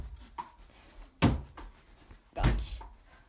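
A BMW i8 butterfly door is swung shut, giving one solid close thunk, then a second heavier thud a moment later, both close and fairly loud over a quiet background.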